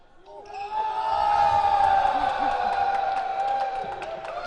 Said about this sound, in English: Crowd goes wild because Victoria went kind of underhanded